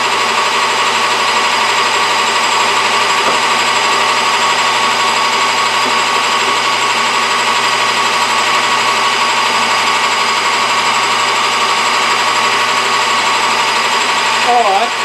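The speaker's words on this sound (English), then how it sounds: "I'm going to go ahead and center drill" A steady, loud mechanical whine and hum of a power tool center drilling an old hammer head runs continuously from start to finish, with only slight shifts near the end.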